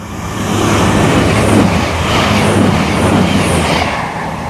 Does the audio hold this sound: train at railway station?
yes